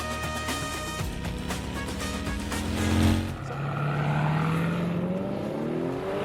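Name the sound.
Harley-Davidson Road Glide motorcycle engine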